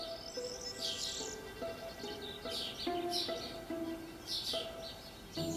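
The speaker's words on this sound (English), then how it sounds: "Though the young kestrel objects to the trespassing." A young lesser kestrel calls in Spanish countryside: a run of shrill, repeated chirping cries that come in short bursts over several seconds, fairly close and clear against a faint background.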